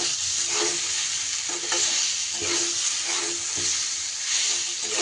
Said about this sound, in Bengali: এবার বেগুনটা দিয়েও শাকের সাথে খুব ভালো করে মিশিয়ে নিতে হবে